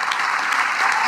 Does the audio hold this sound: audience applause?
yes